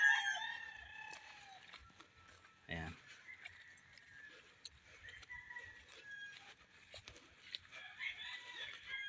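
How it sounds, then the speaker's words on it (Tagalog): A rooster crows in the distance, once near the start and again at the end, over a quiet farmyard with clucking chickens in Bamban, Tarlac, Philippines, with a brief spoken word. "tahimik, manok lang yung naririnig"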